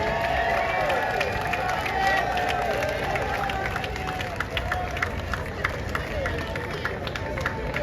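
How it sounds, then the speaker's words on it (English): A crowd claps and cheers at a jazz event in a steelpan yard, a dense continuous wash of applause with scattered sharper claps and voices mixed in. "can we give Dougie a better round of applause"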